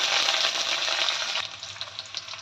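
Garlic and green chillies fry in hot oil with cumin seeds. A loud, steady, dense sizzle fills the clip and eases slightly partway through as crackles and pops continue.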